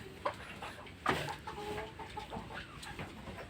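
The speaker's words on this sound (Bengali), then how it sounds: "এই যে গোল ঘরে মুরগিও এসে বসে রয়েছে।" Chickens clucking at a flood-hit rural home, a few near calls and short squawks over a steady background murmur of outdoor noise.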